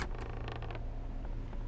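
A door in the survival horror game Silent Hill: Shattered Memories creaks open in one drawn-out, grinding creak, loud and alone over a low steady hum.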